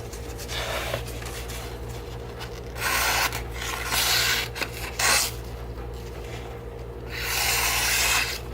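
Unsharpened, factory-edge 9Cr18MoV stainless blade of a Shirogorov 95 flipper knife slicing material, giving repeated close rasping, rubbing strokes in bursts over a steady low hum.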